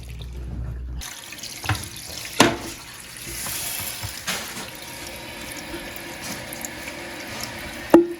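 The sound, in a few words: water filling a new American Standard Vormax toilet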